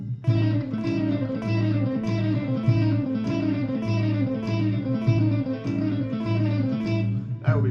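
Electric guitar with an effects-laden, slightly distorted tone plays repeated five-note triplet figures in a steady, rolling rhythm, loud and close, with no voice over it.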